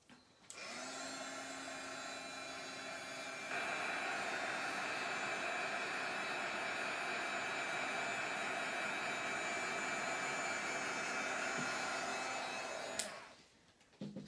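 A heat tool blows steadily over a glass craft mat for mixed media tag making, a loud continuous whooshing roar with a whine that grows fuller a few seconds in and stops abruptly near the end, with no voices.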